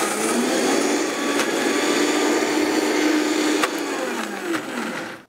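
A kitchen blender whirs steadily through pesto ingredients with olive oil, salt and pepper, a loud continuous motor whine with slight pitch shifts as the blades catch, then cuts off abruptly at the end.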